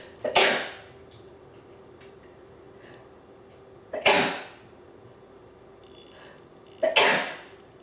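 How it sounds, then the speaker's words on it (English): Three sudden, breathy sneezes indoors, each a sharp burst that fades quickly, spaced a few seconds apart against a quiet room. "I'm getting ready to sneeze."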